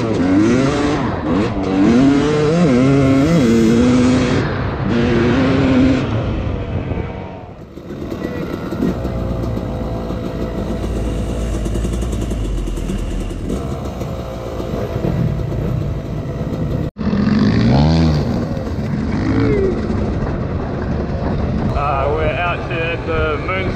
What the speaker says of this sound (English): Jack on the CRF 450